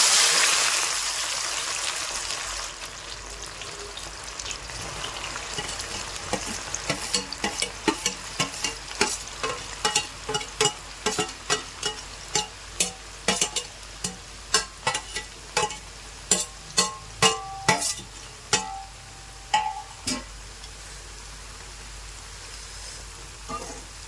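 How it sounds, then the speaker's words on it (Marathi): Sliced onions for chicken dum biryani frying in very hot, smoking oil, a loud bubbling sizzle that settles into steady crackling, broken by a long run of sharp clinks from a slotted spoon stirring, no talk. "आता तेल आपलं चांगल्या पद्धतीने तापलेलं आहे धूर पण निघत आहे आपण त्याच्यामध्ये आता हा कांदा टाकू"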